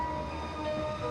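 A moving train rumbles steadily in a low, continuous drone, heard quietly from on board, with no talk.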